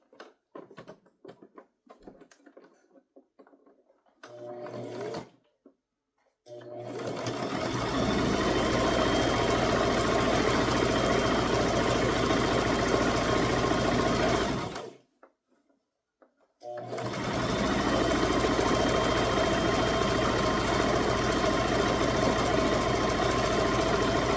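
A sewing machine topstitches a purse strap, running in two long, steady, close stretches of motor whir and needle chatter separated by a short pause, with faint handling clicks before it starts.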